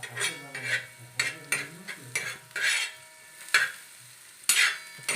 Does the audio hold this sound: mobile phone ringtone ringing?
no